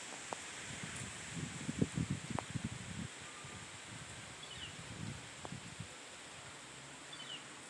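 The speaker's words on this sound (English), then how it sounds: "now we've got us a nice little wind that is picking up" Wind picks up outdoors and leaves rustle in soft, faint gusts. It swells briefly near the start, then settles into a low, steady hiss.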